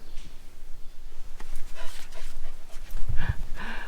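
Dogs at a house under construction make soft, rapid panting breaths that come and go over steady background noise, with a short burst of louder, closer activity near the end.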